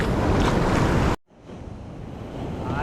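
Loud surf crashing on a Philippine shore with wind rushing across the microphone, then a brief dropout before steadier rolling waves return.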